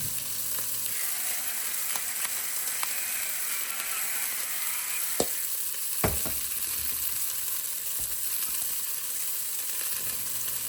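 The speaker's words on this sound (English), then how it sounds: "So several minutes later, we'll put in the rest of the chuck roast" Chunks of chuck roast sear in a pot for chili, a steady close sizzle running throughout with a couple of sharp metallic clacks from the pot or utensil partway through.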